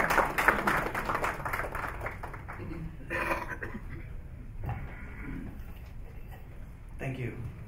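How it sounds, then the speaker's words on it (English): A conference audience at an international halal conference gives a round of applause. Brisk, dense clapping fills the hall for a couple of seconds, then thins out into scattered claps and room noise. "please give him a huge round of applause"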